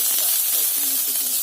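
Onion, garlic and curry leaves sizzle in hot oil for a chickpea curry, a steady close hiss with a few faint tonal squeaks and no talking.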